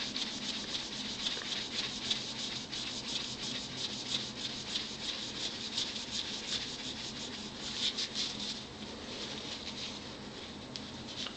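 A straight razor being scrubbed with a coarse abrasive to lift surface rust and water stains gives a steady, close, dry rubbing and scratching that runs on without a break.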